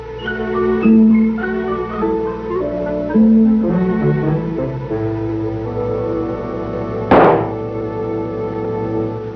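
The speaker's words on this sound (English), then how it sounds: "The difference with an explosion of gasoline and oxygen is evident." A single sharp, explosive bang of a gasoline and oxygen mixture bursts out over a background of orchestral music, then the music carries on.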